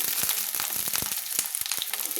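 Long-sliced eggplant frying in hot oil in a pan, with a dense, continuous crackling sizzle heard close up, sprinkled with sharp pops and spits.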